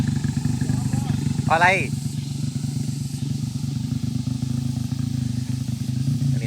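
Two Honda motorcycles grind up a steep hill climb on a rural road, a steady low engine drone carrying through the clip with a brief higher whine near the start, while people talk over it.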